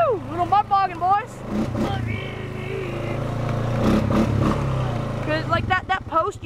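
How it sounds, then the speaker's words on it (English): Four-wheeler ATV engine revving hard through mud, a steady loud drone with rising and falling pitch, voices whooping over it at the start and end. "Little mud bogging, boys!"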